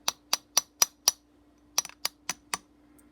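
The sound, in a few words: hammer tapping trigger pin into Smith & Wesson pistol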